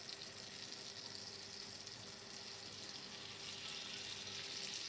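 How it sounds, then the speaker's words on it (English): Beaten egg cooking in melted butter in a non-stick pan for a Bajan omelette makes a soft, even, faint sizzling hiss that runs without a break, with no voices. "We're going to add our egg to make the omelette."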